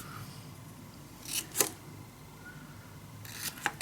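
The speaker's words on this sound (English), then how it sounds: "Cut the corner in a little triangle" Scissors snipping the corners of paper, two quick close cuts, then a pause and two or three more crisp snips, faint against a quiet room.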